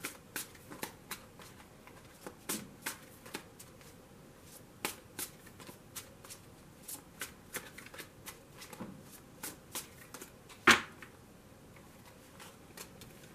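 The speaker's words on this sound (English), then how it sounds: "so I'm only going to shuffle it for a moment." A tarot card deck being shuffled briefly, giving a run of soft, crisp riffling snaps at irregular intervals with one sharper louder snap near the end, close to the microphone and with no talking.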